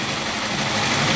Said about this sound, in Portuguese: E a moto funcionando, show de bola.